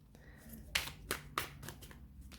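Glossy Linestrider tarot cards are shuffled close by in a few short, crisp riffling bursts separated by brief pauses.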